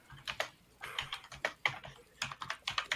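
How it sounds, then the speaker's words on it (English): Rapid clicking keystrokes come from a loud computer keyboard, typed in quick bursts with short pauses between them, close and clear with no voices. "Someone's typing really loud."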